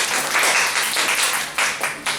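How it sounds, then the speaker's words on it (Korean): A church congregation claps and applauds together, a dense steady wash of hands filling the room for a couple of seconds with no voices over it. "박수."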